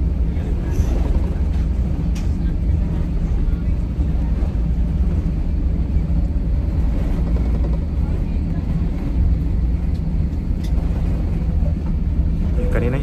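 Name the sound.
passenger airplane taking off from Istanbul to Manila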